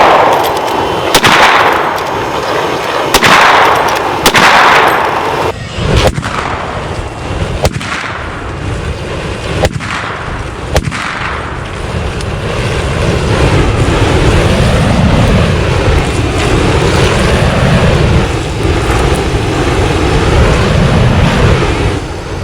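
An underbarrel flamethrower mounted on an AR rifle fires in several loud, sharp whooshing bursts, then gives way to a sustained, wavering roar of flame that continues close by to the end.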